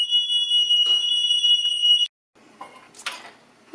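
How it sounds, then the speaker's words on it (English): A very sensitive kitchen smoke alarm set off by skillet cooking, sounding as a loud, continuous high-pitched electronic tone that cuts off abruptly after about two seconds, followed by quieter clattering and faint kitchen noises. "We have a very sensitive smoke alarm."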